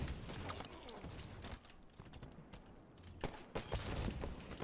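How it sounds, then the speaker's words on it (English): Rapid gunfire from the Halo 5 video game crackles in dense, overlapping bursts, with sharp shots stacking into a steady barrage that swells louder near the end. "these kids are shooting straight now"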